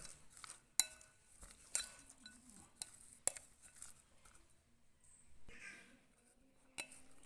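A spoon mixes cornflour into ingredients in a bowl, giving faint, sparse clinks and soft scraping against the bowl, with quiet pauses between strokes.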